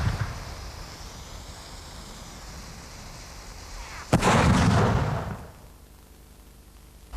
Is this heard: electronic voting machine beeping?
no